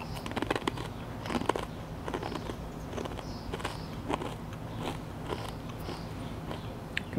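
Cheese-flavored wine chips, small, ruffly and ridged, crunched between the teeth in a steady series of crisp bites and chews, close up and fairly quiet against a noisy room background.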